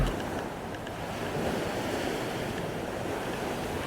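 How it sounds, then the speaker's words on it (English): Surf washes continuously onto a beach in Thailand, a broad steady roar of waves close by with some wind noise and no voices. "And we've arrived at the beach."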